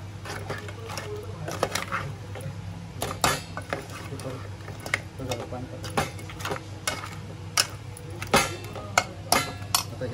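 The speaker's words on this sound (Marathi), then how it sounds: "परत त्याला परतून घ्यायचं असं." A spatula clinks and scrapes against a pan while roasted dry coconut and onion masala paste is stirred for a Malvani crab curry, with irregular metallic taps and a voice talking.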